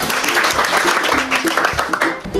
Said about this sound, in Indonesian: tepuk tangan buat lo